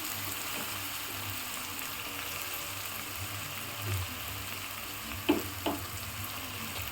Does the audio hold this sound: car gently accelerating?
no